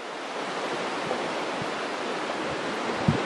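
A river flows near Marsh Bridge on Exmoor with a steady, close, full-bodied rush of water that never lets up, and a couple of soft knocks come near the end, with no voices.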